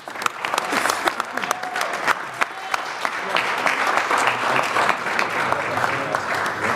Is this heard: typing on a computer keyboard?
no